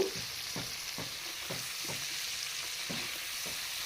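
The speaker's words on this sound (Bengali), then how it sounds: "অল্প একটু হলুদ গুঁড়ো দিয়ে হালকা একটু ভেজে নেব" Cauliflower frying lightly in a pan with salt and turmeric for a catla fish and cauliflower dish: a continuous hiss of oil with a regular rhythm of soft stirring strokes, about two per second, no voices.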